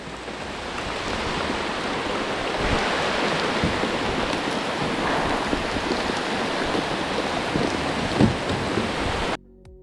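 Heavy rain during a storm pours steadily and loudly, a dense continuous roar of water that stops abruptly just before the end.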